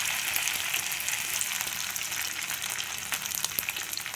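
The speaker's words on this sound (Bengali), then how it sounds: "দেখো এবার পনিরগুলো আমি ভেজে নেব" Batter-coated paneer pieces frying in hot oil give a steady, crackling sizzle with scattered pops, close and unbroken, with no talk over it.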